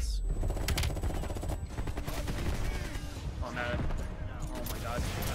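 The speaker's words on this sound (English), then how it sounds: "The way M16s are supposed to be shot, and not freaking some burst shooting guns." Rapid, sustained M16 rifle fire from the Call of Duty Black Ops Cold War campaign, loud and dense bursts running through the whole stretch amid other battle noise, with a voice talking over it.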